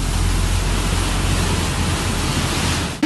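Rushing floodwater of a rising stream in Rize roars as a dense, constant broadband hiss close by, loud and unbroken for about three seconds before a brief cut at the end.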